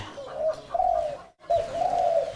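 Spotted dove, a tekukur kept as a trapping decoy bird, gives two clear, close cooing phrases separated by a brief silence, with no voices.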